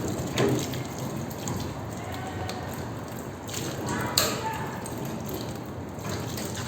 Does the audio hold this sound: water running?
yes